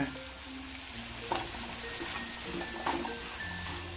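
Semolina (rava) roasting in a pan for a festival offering platter, giving a steady close sizzle and frying crackle with occasional stirring scrapes, no one speaking.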